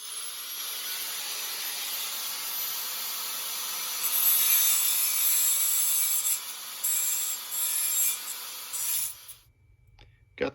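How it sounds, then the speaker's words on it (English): An angle grinder cuts a metal bracket on a Caldera spa, a loud, harsh grinding that runs steadily against the metal for most of the clip, then cuts off near the end, leaving a low hum. "use an angle grinder, cut this out to about here, and take it all the way out"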